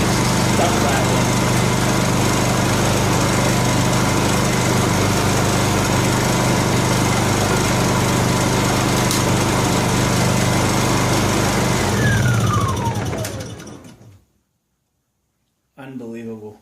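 A Honda EU2000i generator in dirty condition runs steadily with loose parts rattling, a loud continuous engine drone that then winds down and stops, followed by a brief sound after the silence.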